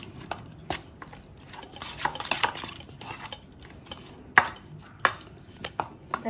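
Ginger garlic chutney being mixed with mustard oil, giving scattered scraping and clinking of a utensil against a bowl, with a few sharper knocks, close and moderately quiet.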